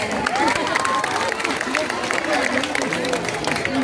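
Pageant audience applauding and cheering during a national costume parade, a busy crowd wash of clapping with whistles and chatter, while someone speaks over it.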